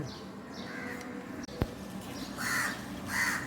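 A crow caws near its nest with newly hatched chicks, giving a few loud, harsh calls, with a sharp knock between them over faint outdoor background noise.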